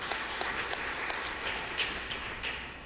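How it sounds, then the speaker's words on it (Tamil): An audience at a Tamil pattimandram debate claps in a continuous, moderately loud wash, with a few sharper individual claps standing out. "அவருக்கு ஒரு கைத்தட்டு கொடுங்க,"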